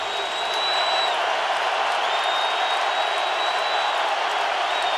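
Stadium crowd at a Patriots vs Colts NFL game roars in full voice, a dense, sustained wall of cheering with a faint whistle tone running through it, no gaps throughout.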